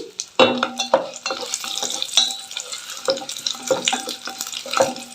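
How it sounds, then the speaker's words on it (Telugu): Dried red chillies, broken in half, fry in hot oil in a pan with a soft sizzle, punctuated by close scraping and stirring clatter from a utensil. "ఆయిల్ అయితే వేడైపోయింది నేను ఇందులోకి ఎండుమిర్చి వేసుకున్నానండి"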